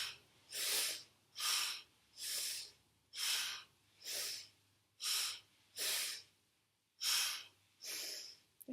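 Rapid rhythmic breathing in Kundalini yoga practice, about ten forceful breath bursts in a steady pattern of roughly one per second, close and clear with brief gaps between them, and no talking.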